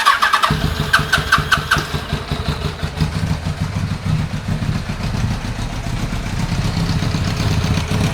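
A 2001 Kawasaki ZRX1200R motorcycle engine catches after a brief crank and settles into a loud, steady rumbling idle close by, running with no enricher and no talking.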